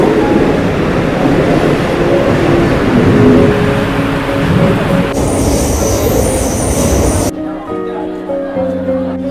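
A Mumbai local train runs between Churchgate and Charni Road with a loud, close rumble, wheel clatter and high squeals. The sound cuts abruptly to a quieter stretch, with voices faintly underneath.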